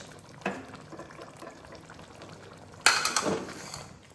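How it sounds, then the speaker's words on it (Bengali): Water is poured into a pot of pangas fish and eggplant curry, a brief splash early and then a louder, sustained pour with sizzling near the end. "পানি দেব, শেষ।"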